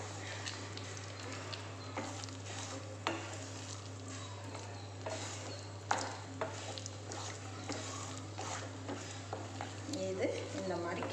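A spoon works through a thick cooking mango mixture in a pan, giving soft, steady scraping and stirring strokes over a constant low hum, with faint sizzling underneath.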